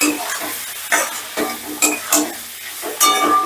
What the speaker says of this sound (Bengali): সমস্ত মশলাটা বেশ ভালো করে মিশিয়ে নিয়ে